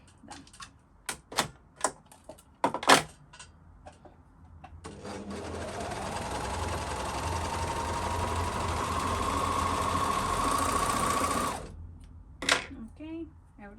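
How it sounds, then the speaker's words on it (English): An overlocker sewing machine stitches lace fabric in a steady, fast mechanical whir lasting several seconds. Scattered clicks and taps come before and after the run, and a voice speaks briefly around them. "I love overlocker after cleaning and threading it. Always sewing amazing"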